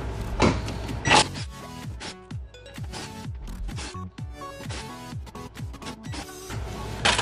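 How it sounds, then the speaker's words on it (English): T50 Torx bolts are backed out of the Y brace under a BMW 335i, giving repeated close ratcheting clicks and scraping metal sounds in an irregular rhythm, with no talking. "the next step is taking this this Y brace off, and it's gonna be 8 T50 Torx bits"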